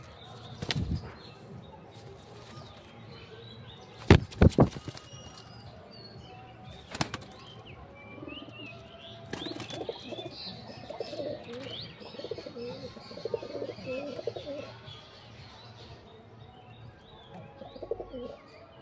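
A pigeon, one the speaker hand-feeds with biscuits, flaps its wings in sharp bursts of clatter near the start, then soft cooing and chirps continue at moderate loudness against faint background noise.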